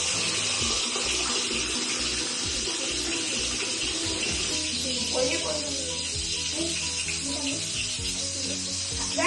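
Tap water runs in a steady hiss near a stove while making Maggi and upma with tomatoes and onions, a continuous wash of noise with voices faintly underneath.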